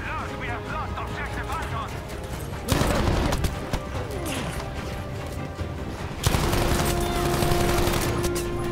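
Dense gunfire in Battlefield V, a Breakthrough match set in Greece, with overlapping shots and bursts building into loud sustained volleys after a short lull, and a voice talking underneath.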